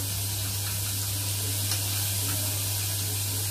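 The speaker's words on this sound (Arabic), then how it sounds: "البصله اهي تتشوح برضو هنا" Chopped onion sautéing in ghee in a pan, a steady, even sizzle with a constant low electrical hum underneath, no voices.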